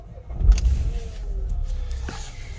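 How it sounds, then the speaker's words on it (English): A 2015 Dacia Sandero Stepway TCE 0.9 petrol engine cranks and catches, giving a low rumbling startup surge that settles into a steady idle, heard close up with no talking. "I'll just start it up to show you the startup sequence."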